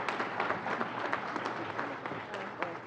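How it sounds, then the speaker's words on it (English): Audience at a college graduation and award ceremony applauding, a steady wash of many hands clapping at moderate distance without a break. "Everybody give a round of applause"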